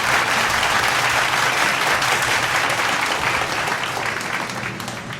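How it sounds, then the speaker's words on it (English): An audience at a Montessori school's first annual day applauds a prize winner walking on stage: dense, loud clapping from a large crowd, sustained and tapering off slightly at the end. "Please welcome Jairaj on stage with a very big round of applause"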